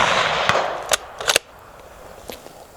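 A Sig Cross 6.5 Creedmoor long-range deer rifle fires on a shooting range, a few sharp, loud cracks over a brief noisy start, then quiet.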